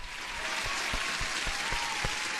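Applause rings out after a good futures trade, a steady wash of clapping with a few distinct sharper claps standing out at a moderate level.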